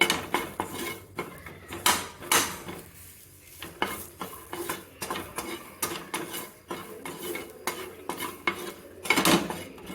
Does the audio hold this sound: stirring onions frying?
yes